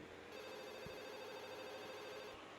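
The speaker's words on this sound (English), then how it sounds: "A familiar soft ringing begins to sound from Lily's phone." Lily's mobile phone gives a soft, familiar ringtone in the video game Katawa Shoujo, a steady, gentle tonal ring that holds evenly for a couple of seconds over quiet background.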